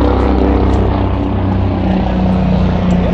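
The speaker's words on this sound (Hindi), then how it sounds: "हेलीकॉप्टर" A loud, steady helicopter drone fills the whole stretch, its rotor and engine noise constant and close overhead in snowy Himalayan mountains on the Amarnath Yatra route near Poshpatri.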